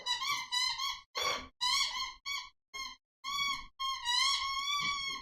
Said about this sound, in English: That's the puppy playing with his squeaky toy.